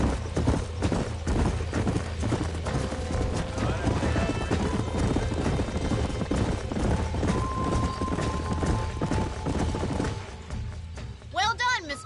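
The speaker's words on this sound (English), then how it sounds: "These are fine horses." Horses gallop with a dense, fast clip-clop of hooves in the Western video game Red Dead Redemption, joined by neighing and whinnying, and the hoofbeats thin out near the end.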